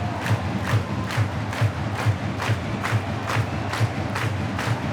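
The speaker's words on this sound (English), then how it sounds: "The crowd urging on here, Craig, for that last goal." An ice hockey crowd at a Braehead Clan versus Löwen Frankfurt game urges on its team in the closing minute with rhythmic chanting, punctuated by steady, evenly spaced beats that repeat about twice a second over a loud crowd roar.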